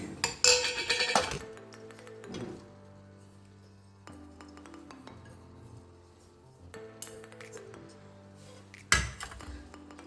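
A metal ladle stirring grated carrots in a kadhai for carrot halwa, giving bursts of scraping and clanking against the pan, with ringing metallic tones lingering between strokes.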